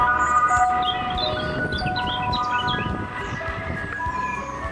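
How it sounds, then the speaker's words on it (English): Ice cream van chime tune in 1990s Britain playing its tinkling melody, fairly loud, with faint background street noise beneath it. "The ice cream van. You could hear it long before you saw it."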